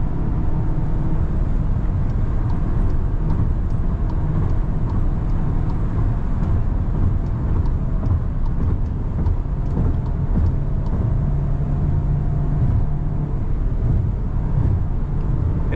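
A 2024 VW Tiguan 2.0 Elegance on the move, a steady low engine hum and road noise heard from inside the cabin, continuous and fairly loud, with no talking.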